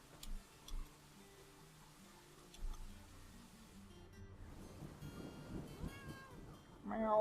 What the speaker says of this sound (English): An animal has grown to become a stray cat